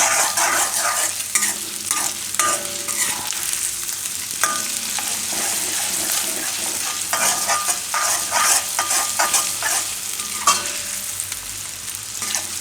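Ginger being stirred in a hot pan for cheese broccoli fried rice: a steady oily sizzle under repeated scraping spoon strokes, close and continuous with no talk.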